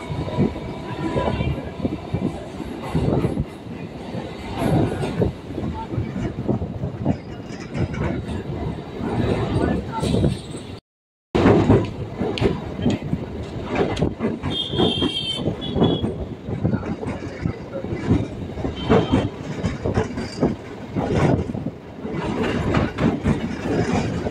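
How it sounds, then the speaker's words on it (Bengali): A local train pulls out of Khidirpur station, a loud continuous rumble of wheels on rails with rhythmic clacking and occasional squeals, near and steady with a brief dropout. "আমাদের ট্রেন এখন খিদিরপুর স্টেশন ছেড়ে বেরিয়ে যাচ্ছে"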